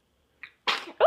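A baby sneezes: after a brief silence comes a tiny intake sound, then a short sharp sneeze burst, followed at once by a voice speaking close by.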